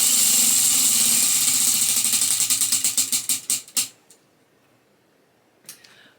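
A prize wheel spins with a rapid ratcheting clatter that gradually slows into distinct spaced clicks before stopping, followed by silence and one faint later click.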